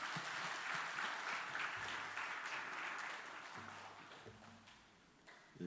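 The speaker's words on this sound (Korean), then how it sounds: "박수로 환영해 주시기 바랍니다." A church congregation gives sustained applause to welcome a pastor at an afternoon worship service, the clapping gradually thinning and fading with a faint low tone underneath.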